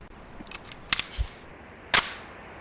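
Semi-auto pistol shots in the Police Quest SWAT video game: a few sharp, crisp cracks in quick succession, then a louder single shot, against a quiet background.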